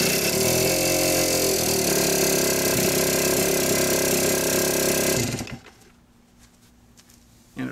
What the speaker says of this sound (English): Now we're going to go ahead and manually jumper the cranking motor again